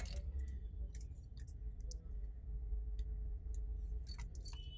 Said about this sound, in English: So I'll just fire up the vehicle to show you how it is.